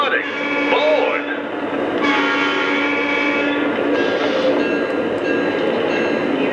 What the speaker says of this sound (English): Folks, the Southerner is departing.